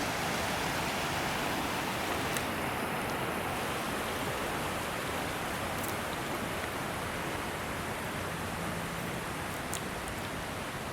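Flash flood water rushes down a small creek on a hillside, a dense, steady roar of churning water that fills the whole stretch at a moderate level, with no voices heard.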